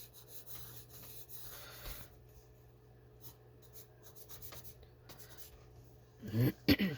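A charcoal pencil sketches popcorn on paper with soft, faint scratching strokes against a quiet hum, then several quick, louder rubbing strokes close up near the end, with a voice speaking now and then.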